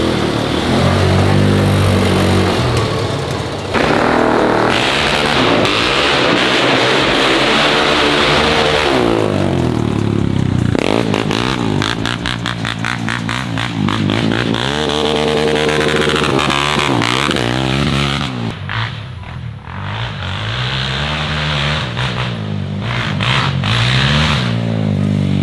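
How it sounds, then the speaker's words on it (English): A quad bike engine cranks over and revs loudly up close, its harmonic drone rising and falling through repeated throttle blips for the whole stretch. "trying to start a bike"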